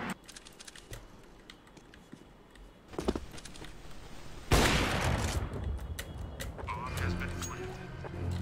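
Gunfire erupts in CS:GO: a sudden loud, sustained burst of shots partway through, preceded by scattered keyboard clicks and a voice in the background.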